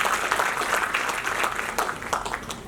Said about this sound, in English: Please give a huge round of applause to Mr.